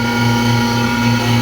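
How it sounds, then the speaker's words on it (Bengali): An electric blender runs steadily while grinding cumin and other spices, a constant loud motor whine with a low hum that holds without pause throughout. "আবার কিছুক্ষণ ব্লেন্ডার মেশিন চালানোর পর এবার দেখলাম যে মোটামুটি হয়ে যাচ্ছে"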